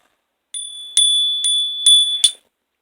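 A small bell is struck five times in quick succession. Each strike gives a bright, pure ringing tone that sustains briefly before the next, close and loud, with silence before and after.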